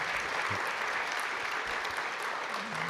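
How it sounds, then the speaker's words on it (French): Conference audience applauding steadily, a dense even wash of clapping from a large crowd that fills the whole stretch at moderate level. "Je vous demande de les applaudir."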